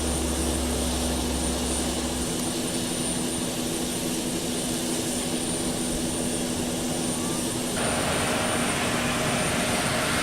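Engine number 1 of an airliner starts up in the P3D flight simulator, a steady, loud whining roar of turbine and airflow that shifts slightly in tone partway through, with no talking.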